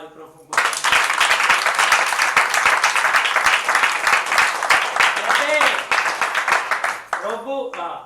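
A church congregation breaks into loud, sustained clapping that fills the space, with voices heard alongside and the applause thinning out near the end.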